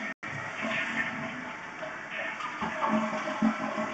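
Toilet flushing during a sewer line inspection: a loud, continuous rushing gush of water fills the whole stretch after a brief gap at the start, with gurgling swells toward the end and no talking.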